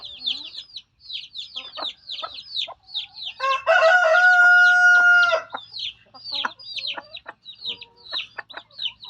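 Hens cluck busily among peeping chicks in a natural free-range setting while a rooster crows loudly through the middle, a long harmonic call rising over the steady chatter of the flock.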